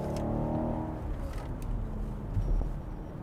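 Engine and road noise from a large luxury SUV, a Mercedes-Maybach GLS 600 or BMW Alpina XB7, driving fast, a steady low rumble heard from inside the cabin with a slight swell near the end.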